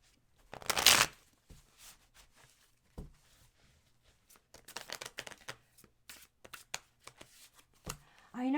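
Tarot cards being shuffled during a live reading, a sharp riffle burst followed by scattered soft flicks and taps of cards being handled, close and fairly quiet, with brief talk.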